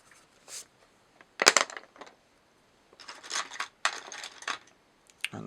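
Pencil sketching on paper: short, quiet bursts of dry scratching strokes separated by near silence.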